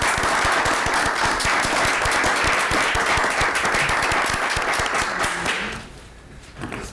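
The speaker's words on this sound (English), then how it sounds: "I am clapping to congratulate them" Sustained applause from an audience at a Topeka city council meeting after the council elections, dense steady clapping throughout that fades out near the end, with a few last scattered claps.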